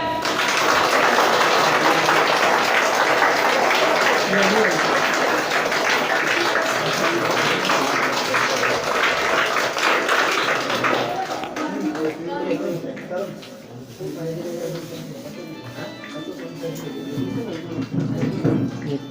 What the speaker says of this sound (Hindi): यस बजाइए ताली।